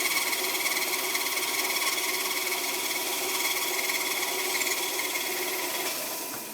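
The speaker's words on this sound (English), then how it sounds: "there's the heavy motor tool" A heavy motor tool grinds and shapes an ivory carving, producing a continuous, fairly loud buzzing rasp that holds steady for several seconds and eases off slightly at the end.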